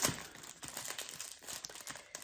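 Plastic packaging around a gold braid trim crinkling and tearing as it is pulled open by hand, a continuous close, busy rustle with no talking.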